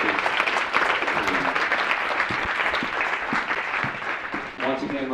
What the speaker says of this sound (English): how about another big round of applause for just what I've been presentation.